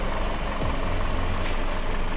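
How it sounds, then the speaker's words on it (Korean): Kia K5 LPI sedan's engine idling with the hood open, a steady, even low rumble with a faint mechanical tick, close and continuous without speech. "보시면 엔진 소리도 일정하네요."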